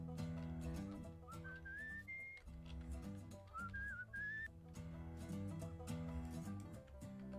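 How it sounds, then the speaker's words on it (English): Game whistling from Where the Water Tastes like Wine: two rising whistled phrases played over a looping plucked-string musical backing, clear and prominent in the mix. "How do I match the whistles?"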